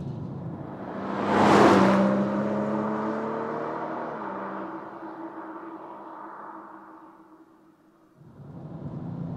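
A BMW M240i's straight-six engine surges in a loud burst of revs, then settles into a steady, fairly close drone that gradually fades before briefly picking up again at the end.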